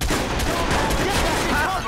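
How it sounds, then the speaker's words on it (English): Dense rapid gunfire in the video game Watch Dogs, a loud continuous fusillade of overlapping shots filling the whole moment. "Shots fired! Shots fired! I'm taking fire!"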